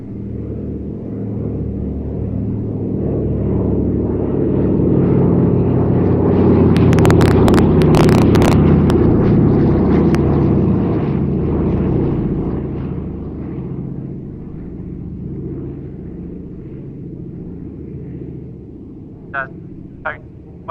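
A Grumman Wildcat fighter plane takes off and makes a flying pass, its piston engine rumble swelling loud as it nears and then fading away, with sharp clicks near the end.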